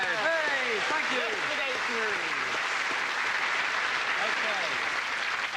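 A studio audience applauds a guest, Paul Routledge, on a comedy panel show; steady, dense clapping fills the whole stretch while voices carry over it.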